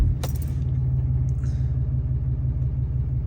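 A car engine turning over and running, a heavy steady low rumble close by, with a brief mechanical clack at the start.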